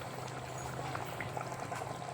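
A pot of peas and potato curry bubbles at a steady, continuous boil, a dense close simmering hiss with small pops throughout and no talking.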